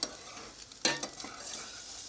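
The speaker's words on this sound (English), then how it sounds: "we're ready to sear our scallops" Scallops drop into hot oil and sear with a sudden sharp sizzle that settles into a steady frying hiss, close and without talk.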